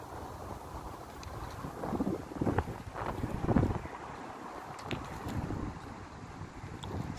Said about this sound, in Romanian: ce tare bate vântul